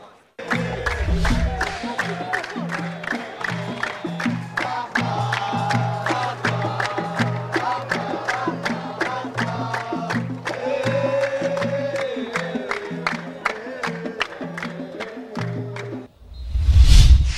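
Al-Jahra and Al-Arabi football fans in a stadium chant in a steady rhythmic beat, with drum-like thumps and massed voices continuing for a long stretch before a loud closing roar.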